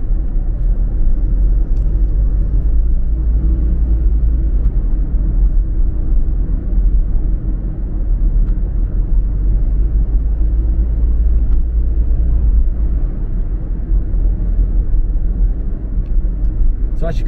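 A car driving along the main airport road out of Paphos Airport, with a steady, loud low engine and road rumble from inside the cabin, constant throughout as someone talks over it.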